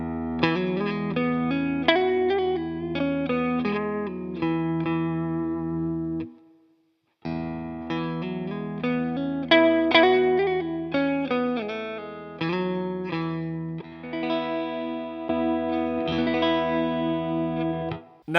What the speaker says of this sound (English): I'll play something with the compressor on, then turn it off and play the same thing